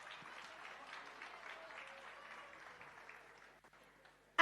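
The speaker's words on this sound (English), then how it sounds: "give them another massive round of applause" A crowd applauds presenters at a community event with traditional leaders present, a soft, distant, steady clapping that thins out and fades toward the end before a sudden loud burst.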